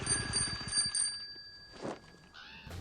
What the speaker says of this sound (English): I would strongly recommend a bell.